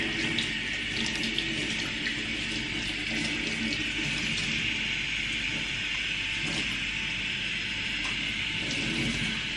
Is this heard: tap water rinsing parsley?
yes